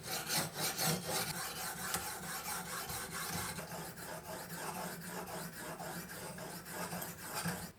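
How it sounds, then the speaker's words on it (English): A kitchen knife is sharpened on a 600 grit whetstone, giving a steady rasping scrape in repeated strokes, close up and alone throughout. "I want to sharpen two of my kitchen knives. Here I just want to take the 600 stone"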